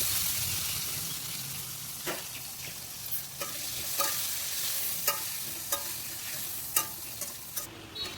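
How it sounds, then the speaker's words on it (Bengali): Potato pieces fry in oil with salt and turmeric in a kadai for a soybean curry, a steady loud sizzle broken by occasional sharp scrapes and clicks of a stirring spatula. "এখন একটু লবণ দেবো, একটু হলুদ দেবো, দিয়ে আলুগুলো ভেজে নেবো একটু।"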